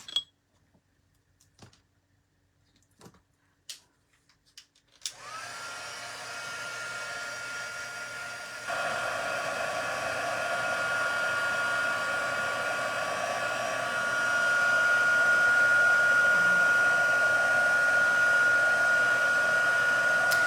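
A blow dryer dries a paper craft calendar project. After a few faint clicks and handling sounds, a loud, steady whoosh starts up and runs continuously, stepping up in intensity partway through, with no talk.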